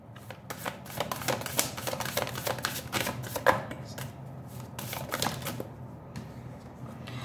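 A deck of cards being shuffled and handled indoors, a run of crisp riffling flutters and snaps over several seconds, close and moderately loud, with no talking.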